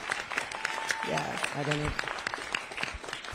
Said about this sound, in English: give all our phenomenal speakers a round of applause